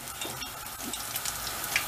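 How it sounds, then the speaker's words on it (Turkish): Potato balls fry in hot oil with a steady bubbling sizzle, close and continuous, with faint stirring or scraping now and then and no talking. "Patateslerimiz altın sarısından biraz hallice kızardı."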